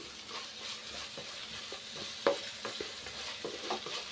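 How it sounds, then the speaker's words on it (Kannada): Dal tempering with coriander leaves frying in ghee and oil, a quiet steady sizzle with light spoon stirring taps and scrapes, no voices. "ಈಗ ಮತ್ತೆ ಸ್ವಲ್ಪ ಫ್ರೈ ಮಾಡ್ಕೊಳ್ಳಿ"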